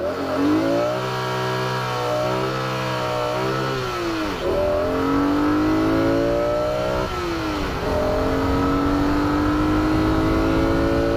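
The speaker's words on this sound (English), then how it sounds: "it really creates that experience of what a proper sports car engine should be" A 2007 BMW Z4 M Coupe engine revs hard, climbing in pitch through several gear shifts with a raspy, high-revving howl, loud and close.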